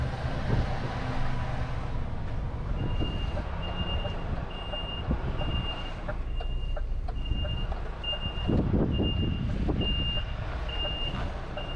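A delivery truck reverses behind a building, its backup alarm beeping steadily and evenly over a loud, rumbling engine, with occasional clunks and road noise.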